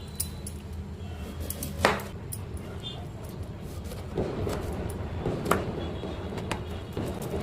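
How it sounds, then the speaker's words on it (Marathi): A head of cauliflower is cut into small florets with a knife, giving scattered sharp clicks and taps on a quiet kitchen background. "आता मी याला कट करून घेणार आहे। एवढे छोटेसे असे भाग करून घ्यायचे"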